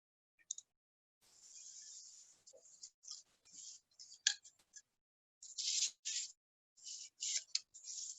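Scissors cut out paper wheels for balloon racers, producing quiet, close, irregular snips and crisp paper rustles in short clusters with brief pauses.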